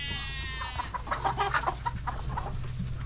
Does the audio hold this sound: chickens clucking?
yes